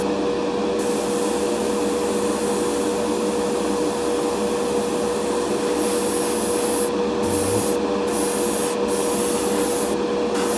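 Aerosol spray paint hisses steadily in a light, thin coat over a custom Corgi Mini model inside a small cabin workshop, a continuous close broadband wash with brief pauses between passes near the end.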